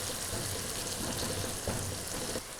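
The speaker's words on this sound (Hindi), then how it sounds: "इसको आप अच्छे तरीके से भून लें।" Cinnamon pieces, cloves, whole black pepper and a green chili frying in a pan, a steady soft sizzling hiss that continues without a break.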